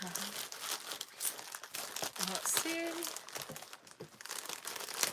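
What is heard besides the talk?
package being unwrapped, crinkling wrapping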